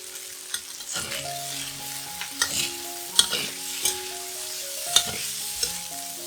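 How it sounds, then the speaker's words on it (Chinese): Tofu is stir-fried in a pan with sugar, soy sauce and oyster sauce for a vegetarian Thai basil tofu dish. Steady sizzling runs throughout, broken by repeated sharp scrapes and clacks from the spatula against the pan. "加入糖、酱油、酥蚝油，炒均匀。"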